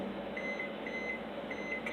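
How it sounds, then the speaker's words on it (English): A microwave oven running to melt chocolate for Christmas cookies, with a steady mechanical hum and fan whir plus a faint periodic electronic tone, heard close and continuous. "And then you're just going to microwave this until it's all melted."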